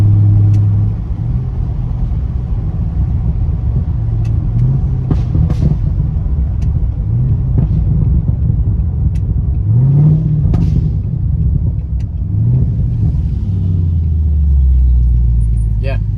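A C7 Corvette with a burble exhaust tune rumbles loud and close, giving deep crackling burbles and pops as it upshifts, while someone talks over the engine.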